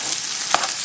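White beans from a can cooking in a frying pan, a continuous close sizzle with one brief scrape of stirring.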